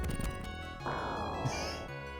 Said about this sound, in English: That's the sound of stone sinking into water